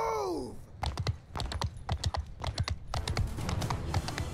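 Cavalry horses gallop across a Mount & Blade Bannerlord battlefield, their hooves drumming in quick, uneven clusters after a brief whinny at the start, fairly close and moderately loud.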